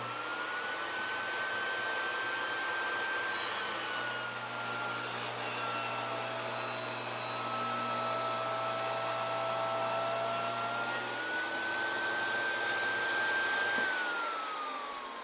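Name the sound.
SawStop compact table saw cutting a push stick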